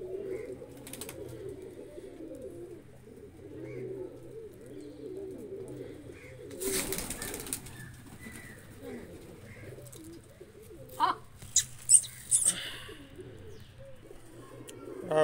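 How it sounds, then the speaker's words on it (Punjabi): Pigeons coo in a low, steady murmur while feeding on chickpeas scattered for them, with a burst of broadband scuffling midway and a few brighter chirps and flutters near the end. "ਕਬੂਤਰ ਆਉਂਦੇ ਨੇ ਭੱਜ ਭੱਜ ਕੇ ਚੁਗਣ।"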